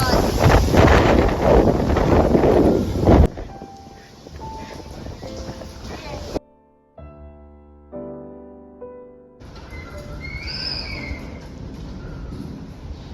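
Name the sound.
strong typhoon wind outside the window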